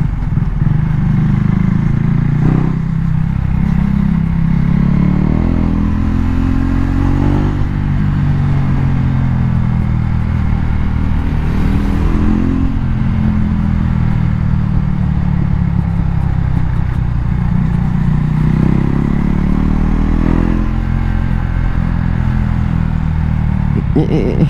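A KTM Duke 390 naked motorcycle engine hums and revs steadily while riding, with wind noise and a voice talking over it.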